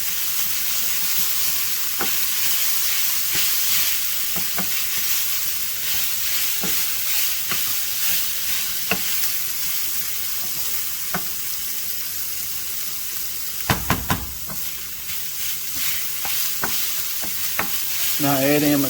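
Tomato paste frying in a pan for creamy penne with Italian sausage, a continuous hissing sizzle broken by intermittent scrapes and taps of stirring, with a brief louder clatter near the end.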